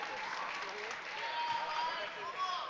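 Spectators at a provincial lead and top rope climbing competition applaud and cheer for a climber reaching up on the wall, a steady crowd clapping with a commentator talking over it.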